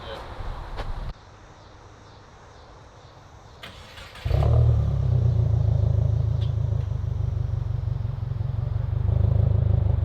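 Subaru VB WRX fitted with an axleback exhaust starts warm, a short crank bursting into a loud, steady idle that rumbles on close by, with faint voices nearby.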